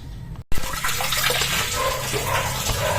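After a brief cutoff, water rushes steadily into a repaired washing machine during a leak test of its valve, a continuous close splashing flow that holds for a few seconds.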